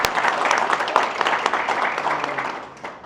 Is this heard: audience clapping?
yes